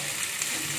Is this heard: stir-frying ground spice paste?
yes